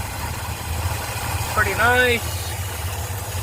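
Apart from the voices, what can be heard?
Ford Fairlane engine idling with new Holley carburetor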